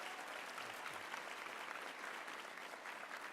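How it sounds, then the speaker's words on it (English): Steady, even applause from a graduation ceremony audience, a dense wash of many hands clapping at a distance, fairly faint and unbroken throughout. "give our academics and support staff a round of applause for the wonderful work"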